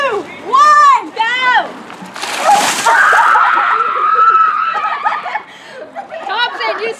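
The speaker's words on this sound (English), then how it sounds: "you scream like a girl!" Young people scream and shriek as they plunge into cold water, with splashing and a burst of noisy sloshing in the middle, laughter and excited chatter around it.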